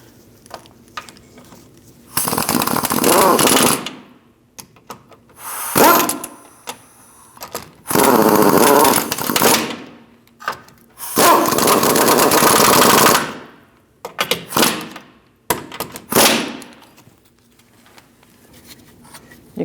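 Power tool snugging engine mount bolts on a 2002-2006 Toyota Camry: several loud bursts of rapid rattling, each lasting one to two seconds, separated by brief pauses and quieter clicks.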